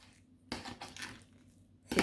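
A spoon scrapes and clatters through a thick keto halva mixture of toasted coconut flour in a bowl, giving a few close, uneven stirring scrapes with a sharper knock of utensil against the dish at the end.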